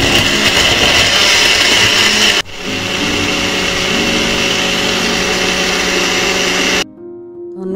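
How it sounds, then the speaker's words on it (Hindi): A mixer grinder blending mango lassi with yogurt, a loud, steady high-speed motor whir that briefly dips and restarts, then cuts off abruptly near the end. "हुण आपां इसनूं मिक्स कर लवांगे, ग्राइंड करांगे मिक्सचर च।"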